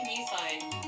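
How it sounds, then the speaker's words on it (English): A mobile phone ringtone goes off during a sit-down interview, a short run of repeating bright electronic tones that sound steady and fairly close, with talk faintly underneath. "You forget to turn your phone off."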